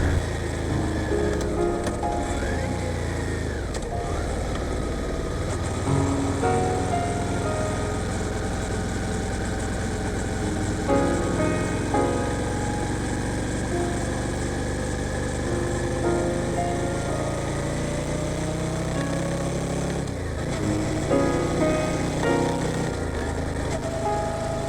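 A motorcycle engine hums steadily while riding through a city at night in Blois, a continuous mid-pitched drone with gentle pitch shifts as it speeds up and slows, close and constant throughout.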